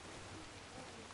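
Rain falls in Red Dead Redemption 2 as a dense, steady hiss of drops on surfaces, faint and continuous with no voices.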